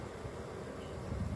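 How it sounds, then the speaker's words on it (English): A large swarm of bees clustered beneath a nuc box, giving a steady, dense buzzing hum that stays even and fairly close throughout with no talking. "large bundle of bees"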